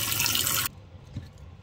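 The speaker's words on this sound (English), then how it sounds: "And shut off the water." Water gushes steadily from a kitchen tap for a moment, then cuts off abruptly, leaving a quiet room with a faint thump.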